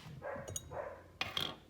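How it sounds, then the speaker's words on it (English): A dog barks a few times indoors, short muffled woofs with a higher yip at the end, faint and somewhat distant, with no talking over it. "Sorry about the barking"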